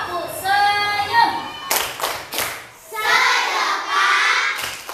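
Schoolchildren in a classroom chant and clap in rhythmic bursts, sharp group claps alternating with sung, shouted chant lines, loud and close.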